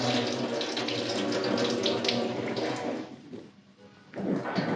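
Water pours steadily into a cooking pot while making sambar rice, a continuous close splashing stream that tapers off briefly before resuming.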